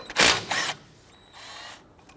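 A power tool spins loose 14mm brake caliper bolts on a Nissan Frontier in two short, close whirring bursts, followed by fainter mechanical clicks and rattles, with no talking.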